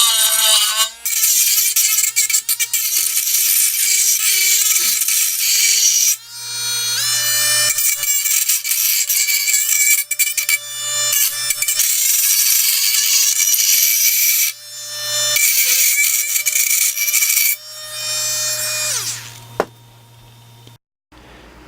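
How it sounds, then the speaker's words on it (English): Dremel rotary tool grinding the rough edges off a freshly cut hole in a Stihl MS660 chainsaw muffler, a loud sustained high-pitched whine that runs in long bursts with brief pauses and pitch dips as the bit loads against the metal. "Now I'm going to clean up this hole and get the rough edges off with this Dremel."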